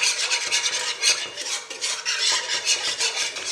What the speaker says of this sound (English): So you make sure you are mixing, on medium heat.